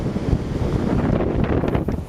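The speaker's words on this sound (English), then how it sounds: "Nice weather, but chilly and really windy." Steady gusting wind buffeting the microphone on Chesil Beach at West Bexington, Dorset, a low rumbling roar throughout with no voices.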